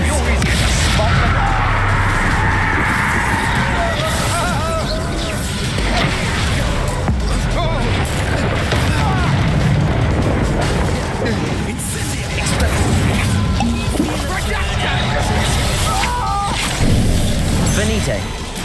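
Bombarda explosion spells burst during combat in the video game Hogwarts Legacy, a dense, loud stretch of booms, crashes and whooshing impacts layered over one another, with voices talking throughout.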